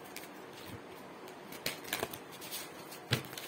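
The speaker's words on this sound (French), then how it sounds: "Je vais remélanger, bien sûr." Tarot cards being reshuffled by hand during a reading, giving soft papery riffles and a few sharper flicks and taps, fairly quiet and close, with no talking.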